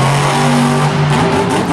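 A monster truck engine at a Monster Jam Anaheim arena show revs hard with rhythmic throttle blips, loud and close, with a steady droning tone throughout and no talk.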